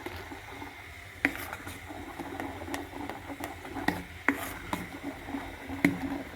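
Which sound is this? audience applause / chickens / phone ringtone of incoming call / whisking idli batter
whisking idli batter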